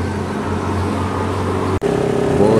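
A large long-distance ANS intercity bus, nicknamed Fenomena, rolls into the Solok West terminal in West Sumatra. Its engine drones loud and steady at close range. A brief dropout comes before the engine note rises again with a whining tone.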